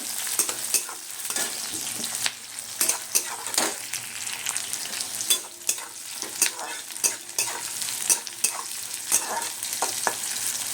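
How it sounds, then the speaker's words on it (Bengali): Onions frying in hot oil in a pan, with a constant sizzle broken by repeated scraping taps of a spatula stirring them, close and fairly quiet, with no voices. "পেঁয়াজ ছেড়ে দিলাম, আর নাড়বো"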